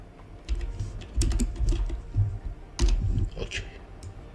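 Computer keyboard typing while searching for a node in an Unreal Engine 5 editor, close and clear, in two short bursts of rapid key clicks separated by a pause.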